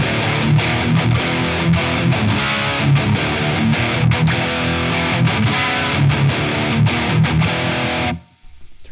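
Electric guitar played through a Line 6 Helix on the Placater Dirty amp model. Loud, continuous distorted chugging riffs with rhythmic palm-muted hits, ending abruptly into near silence.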